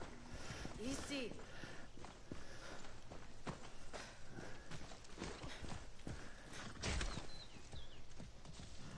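Horse hooves clip-clopping in the Far Cry 6 video game, a steady run of hoof beats mixed with game sounds while people talk over it.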